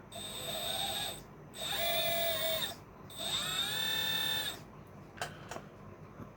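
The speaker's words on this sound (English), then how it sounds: "The pump only runs when you're actually using one of the hydraulic functions." The hydraulic pump on an XD model battery wheel loader whines in three separate bursts, each rising and bending in pitch before stopping, followed by a few sharp mechanical clicks in the quiet.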